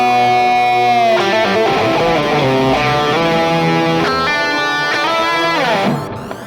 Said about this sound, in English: the delay is going into a distortion, which is going into phaser